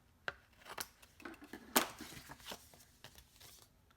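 Scissors snip through cardstock during card making, a scattered series of short crisp cuts and rustles with one louder snip near the middle, close and fairly quiet.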